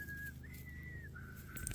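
A person at a ranch whistles a long, sustained tone that glides and shifts pitch midway, moderately loud and unaccompanied by speech.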